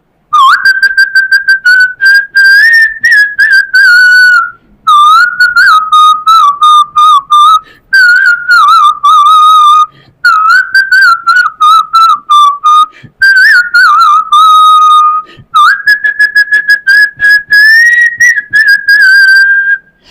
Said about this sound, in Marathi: मी शिट्टीतून गाणं म्हणून दाखवणार, ते गाणं कुठलं आहे हे आम्हाला कमेंट मध्ये कळवा